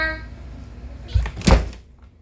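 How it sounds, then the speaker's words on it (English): A single door thunks shut during a severe thunderstorm in Laporte, Indiana, preceded by a faint rattle and set against a low background hum, with no talk. "Door."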